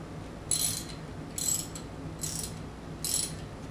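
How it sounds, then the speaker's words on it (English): A ratchet wrench with a socket tightening bolts on an Arimitsu 3 Series unit, heard as four short separate bursts of rapid clicking, fairly close, over a low steady background hum. "we'll take our ratchet, insert the socket to it,"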